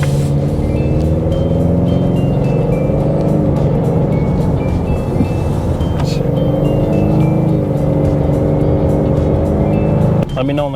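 Engine of a Grabber Blue Metallic 2025 Ford Mustang EcoBoost Fastback with the 2.3-liter turbo four hums steadily from inside the cabin while driving, a continuous close drone with a voice talking over it.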